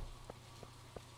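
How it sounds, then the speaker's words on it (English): Heavy rain falling in the farming video game Stardew Valley, a quiet steady patter with a low hum beneath and a few soft, faint drip taps spaced through the brief moment. "Rain's really heavy today."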